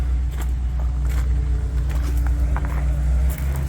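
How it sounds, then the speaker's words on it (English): Car passing outside a hotel in Normandy, a low steady engine rumble that swells slightly and fades near the end, fairly close and continuous with no talk. "Beautiful car."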